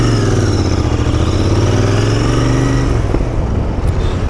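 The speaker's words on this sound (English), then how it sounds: "the bike has a very nice sound to it" A 2021 BS6 Royal Enfield Interceptor 650 engine revs up close and loud, its steady, rumbling drone rising in pitch then easing back, with no voices over it.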